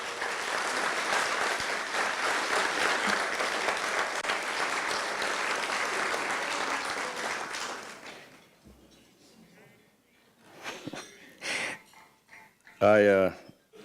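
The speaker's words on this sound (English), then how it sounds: "Let's give them a big round of applause, please." Loud, dense applause from a crowd at a hall of fame dinner fills most of the clip, then fades out, followed by a few scattered sounds and a short burst of voices.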